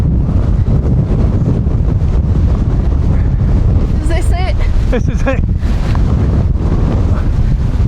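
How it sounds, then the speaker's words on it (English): Loud, constant wind of about 50 mph buffeting the microphone on an exposed Lake District mountain ridge, with a deep roar throughout, while people speak briefly over it. "it's 50-mile-an-hour winds up here"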